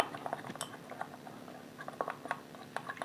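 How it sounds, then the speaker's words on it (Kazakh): Hand-mask mixture stirred in a bowl to break up lumps, giving soft scattered clinks and scrapes of a utensil against the dish, close and fairly quiet over about three seconds. "Бұны мұқият түйіршігінен жазып араластырамыз"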